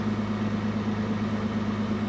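A Brabus vehicle's aftermarket exhaust idles with a steady, low droning hum and faint rhythmic pulsing, quiet and even throughout with no voices.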